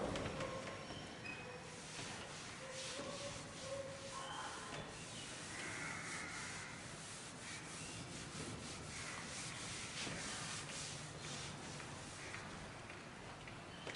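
A duster or cloth rubs writing off a classroom board in steady, faint repeated scrubbing strokes, with soft background noise throughout.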